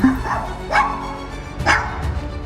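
A shop dog barks to alert its owner that a customer has arrived, giving about three sharp, fairly close barks spaced over a couple of seconds with faint background noise between them.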